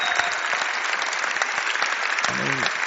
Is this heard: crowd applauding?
yes